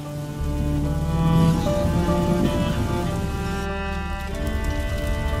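Steady rain falls in the video game A Plague Tale: Innocence, a loud, dense patter that runs throughout beneath sustained musical tones and low rumbling.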